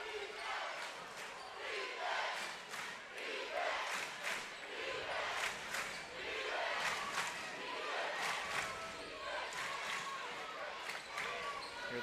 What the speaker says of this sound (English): Hear the crowd roaring here at the War Lodge.